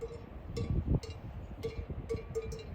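Metal cowbell hanging on a cow in a mountain pasture, clanking in irregular bursts a few times over a few seconds at moderate distance, with soft outdoor background sound.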